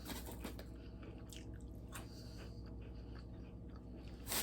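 Garlic parmesan oyster crackers, slightly stale, crunched and chewed up close in a steady run of crisp bites, with a louder crunch near the end and no talking.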